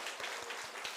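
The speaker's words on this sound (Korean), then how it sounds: "박수하겠습니다." A church congregation at a Sunday worship service claps together, a soft, distant, rhythmic patter of hands lasting about a second, heard without speech.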